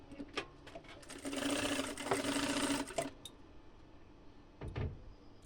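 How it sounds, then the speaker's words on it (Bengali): An electric sewing machine runs a straight stitch on a maxi dress, a steady whirring buzz for about two seconds amid short bursts of handling clicks, fairly quiet and close. "প্রথমে এভাবে সেলাই দিয়ে নেব একটা সোজা সেলাই"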